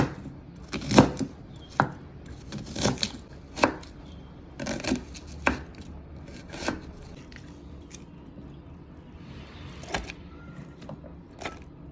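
Bitter gourd being chopped with a knife on a board, with a run of sharp, distinct blade knocks at an irregular pace, a few hits louder than the rest, all close up and with no talking.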